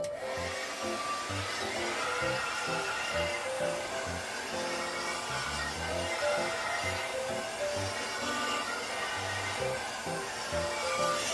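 Steady whooshing roar of a hair dryer with an attachment running continuously on high heat and high air, close up, with faint background music underneath.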